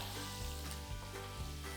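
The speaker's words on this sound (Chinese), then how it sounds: "刚刚的鱿鱼放下来，煎一下" Squid frying in a pan with pork ribs sizzles steadily and close, a loud continuous crackle with occasional soft stirring scrapes and no talking.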